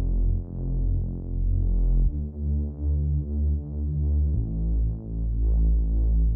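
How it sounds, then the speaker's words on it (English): A detuned saw synth bass with distortion and filtering, playing in an electronic track, throbs with a wobbling pulse across three long sustained notes that shift pitch, loud and alone. "In the second part, we have a bass that comes in and it sounds like this."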